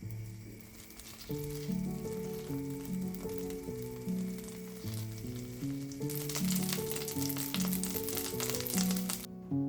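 Salmon fillet, skin removed, sizzling in a hot pan with vegetable oil and butter, a steady loud frying hiss that swells brighter and denser partway through, with a faint tonal hum underneath and no talk.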